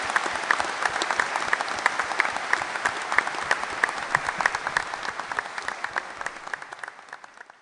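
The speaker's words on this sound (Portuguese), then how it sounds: "merece do nosso plenário um grande aplauso" An audience in a plenary hall gives a long round of applause at the close of a seminar, dense steady clapping with distinct individual claps that slowly fades toward the end.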